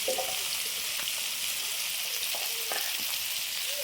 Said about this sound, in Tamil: கொஞ்சமாக பார்த்திங்கன்னா சீரகம் போட்டுக்கலாங்க